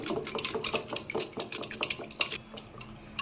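Metal spoon beating curd in a bowl for a bottle gourd tambuli, a fast run of sharp clinks and scrapes against the bowl, close and fairly quiet with no talking.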